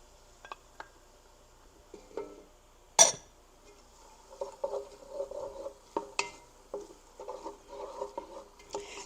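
Spoon stirring celery in a cooking pot for okra stew, soft scraping and light clinks against the pot in scattered bursts with a gentle sizzle, quiet and close.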